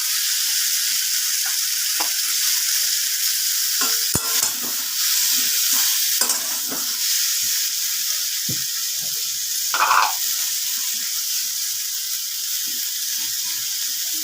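Chopped bottle gourd sizzles in a pan with salt added, a steady hiss of frying broken by sharp scraping and knocking stirs of a spatula against the metal.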